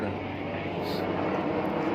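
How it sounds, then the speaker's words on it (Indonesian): Helicopters flying over rice fields near Borobudur during a presidential visit, a steady, distant rotor and engine drone that holds at even loudness while people talk nearby. "kunjungan presiden banyak helikopter di Borobudur"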